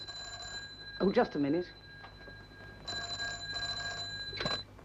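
A telephone bell rings in a 1953 cricket comedy film, two bursts of electric trilling, with a voice speaking briefly between rings.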